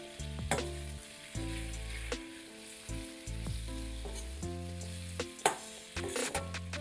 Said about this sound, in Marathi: गॅस मोठा असल्यामुळे आपल्याला हे कंटिन्युअसली सॉते करायचं आहे